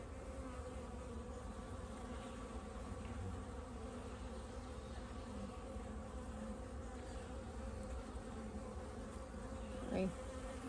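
Dense, steady hum of many honeybees buzzing around an open hive during a full inspection, heard close and continuous with no talk over it.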